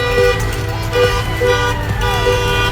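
A large truck's horns blare in repeated loud, tonal honks on a highway, several blasts in a pulsing rhythm over steady road and engine noise.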